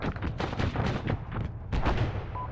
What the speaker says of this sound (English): Sending a little mortars.